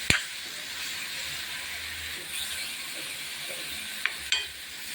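Mushrooms stirred in a hot pan for a fry, a steady soft sizzle running throughout with a few brief scraping stir sounds near the start and end.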